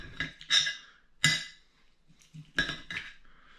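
A knife clinks and scrapes against a plate while slicing through freshly cooked soft lobster topped with sweet chilli sauce, giving several distinct close taps and scrapes separated by brief pauses.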